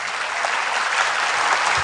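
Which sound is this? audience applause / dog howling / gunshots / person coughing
audience applause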